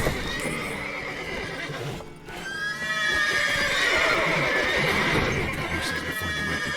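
Horses whinny repeatedly in the video game The Witcher 3 over a dense, continuous background of hooves and ambient noise, loud and close throughout.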